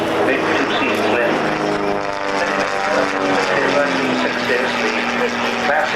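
A CR-15 two-seat aerobatic aeroplane flies at an air fair, its propeller engine a steady, loud droning hum with shifting pitch, heard continuously over a spoken commentary.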